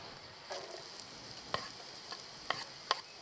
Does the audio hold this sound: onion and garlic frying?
yes